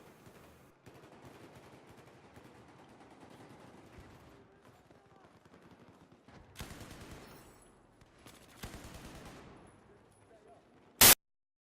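Type-88 light machine gun fire in the video game Battlefield 4, a distant, muffled stream of rapid bursts running under the game's background noise, ending in one sharp loud crack.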